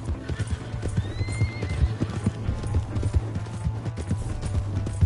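A horse gallops in the Red Dead Redemption 2 video game, its loud, rapid hoofbeats clip-clopping close and steady, with a neigh breaking in early on.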